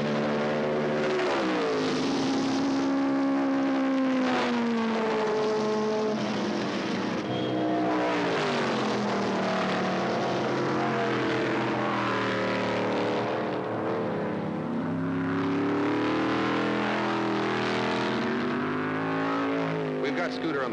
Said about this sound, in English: But Scooter, even without the airfoil, is turning it on, already passing slower cars.